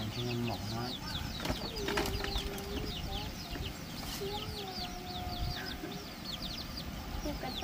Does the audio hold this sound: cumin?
no